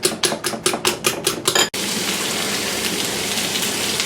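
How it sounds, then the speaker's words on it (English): Bacon frying in a pan on a stovetop over medium heat, starting with a rapid run of crackling bursts that gives way to a steady, dense sizzling hiss, close and fairly loud, with no voices. "Okay, so I've put the bacon on the stove, and this has been cooking on a medium heat."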